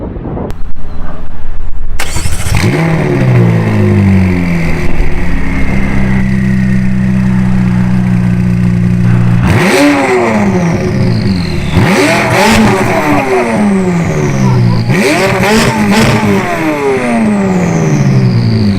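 A McLaren 570S engine with an aftermarket Larini exhaust starts with a loud crackle, then idles and revs hard several times in rising bursts, very close and loud, outdoors in wind, with no talk.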